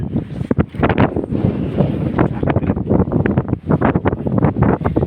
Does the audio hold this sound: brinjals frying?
no